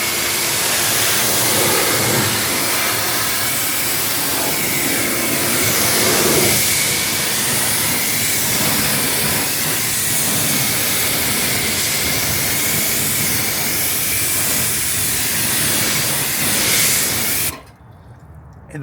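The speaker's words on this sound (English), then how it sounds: "So now we're just going to go ahead and rinse this off." A hose spray rinses ceramic coated car wheels, a steady loud hiss of water running continuously for about seventeen seconds before cutting off abruptly.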